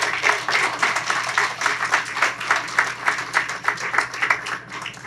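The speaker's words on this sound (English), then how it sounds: "please clap it up for Kelly" Sustained applause from an audience at an outdoor groundbreaking ceremony, steady dense clapping running the whole stretch with slight swells, no voices over it.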